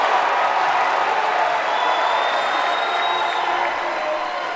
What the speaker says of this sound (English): And he's going to hear about it from the home crowd.